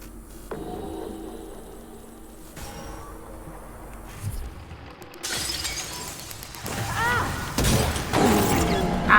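Glass shatters inside a sci-fi space station in the video game Prey, a loud burst of breaking and crashing near the end of the clip over a low game hum.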